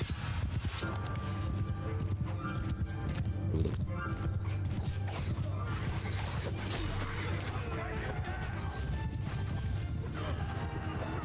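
Massed horse hooves of a large troop of mounted archers in the video game Mount & Blade II: Bannerlord, a dense, continuous clatter with battle noise throughout, while someone talks over it.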